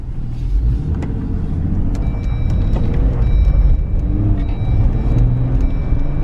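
A Jeep Wrangler with a manual clutch and an aftermarket throttle controller pulls away as clutch and throttle are released together, giving a loud, steady engine and road roar that holds for the whole stretch with no talking.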